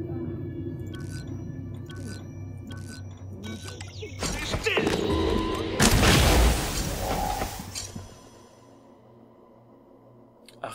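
Inside the sci-fi video game Prey, a sudden explosion bursts out with a heavy boom and crashing debris among ambient clicks and hums, then the loud roar cuts off, leaving quiet.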